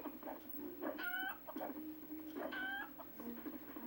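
A chicken in the Lego Pirates of the Caribbean video game clucks in two short bursts of rapid clucking, soft and close against a quiet background.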